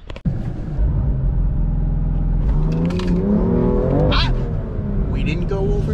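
A lawn tractor engine revs up as it launches, the motor rumbling steadily and rising in pitch, loud and close, with people talking and laughing over it.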